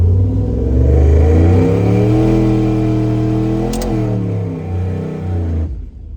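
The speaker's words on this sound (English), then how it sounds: "Okay, good burnout" Turbocharged Dodge Dakota RT pickup with a stock bottom end roaring through a burnout, its engine holding a loud sustained drone with shifting pitch before easing off and dropping away near the end.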